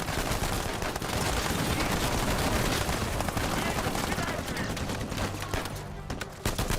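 Sustained dense gunfire in an Uncharted game trailer as sacks are shot apart, loud and continuous, with voices talking faintly underneath.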